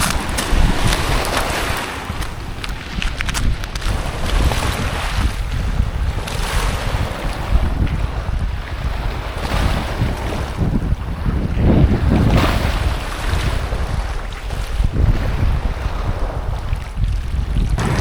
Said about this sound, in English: here I am at the beach